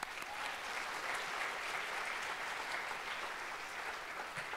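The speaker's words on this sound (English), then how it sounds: "let's give them an applause" Steady applause from a crowd, sustained and even throughout, heard at a moderate distance.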